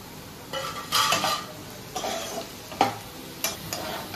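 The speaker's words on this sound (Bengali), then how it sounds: "আলু আর পেঁয়াজটাকে আমি ভালো করে ভেজে নেব লাল লাল করে" Potatoes and onions fry in a pan with turmeric and chilli, a soft sizzle running under repeated scraping stirs of a spoon against the metal pan.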